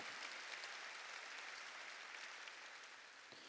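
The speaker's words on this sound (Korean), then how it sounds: "깨달은 사람만 박수치라고." A church congregation claps together in a sustained, dense burst of applause throughout, loud and steady with no voices standing out.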